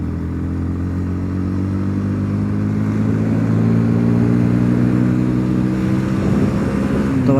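A motorcycle engine idles and pulls away at the start of an Independence Day group ride, a steady loud close rumble that builds slightly as it moves off, with no talking.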